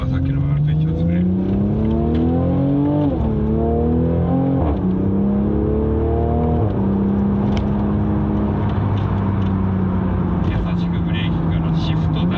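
Car engine in sport mode with manual shifting: revs rise in steps, dropping at each gearshift, then settle into a steady drone. A person talks over it throughout.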